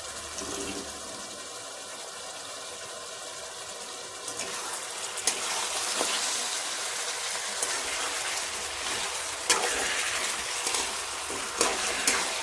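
Green chilli chicken being stir-fried in a pan, a steady loud hiss of frying with occasional scrapes and knocks as the pieces are turned, close up with no talk.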